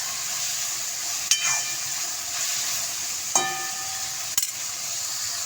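Shredded cabbage and chana dal sauté in a hot pan with turmeric and masala, a steady loud sizzle broken by three sharp clinks of a spoon stirring against the pan.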